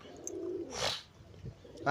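A white pigeon coos once, a soft, fairly close call lasting under a second amid quiet background rustle, with a few faint knocks afterward.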